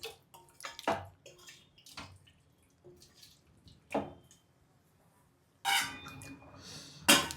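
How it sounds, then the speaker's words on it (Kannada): Water splashes into a pan of tondekayi (ivy gourd) masala curry in short pours and drips, close and intermittent, with a louder gush near the end. "ನಾನು ಇನ್ನೂ ಸ್ವಲ್ಪ ನೀರು ಹಾಕ್ಕೊತೀನಿ"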